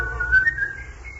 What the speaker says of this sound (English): He whistled as he thought of the gold that he had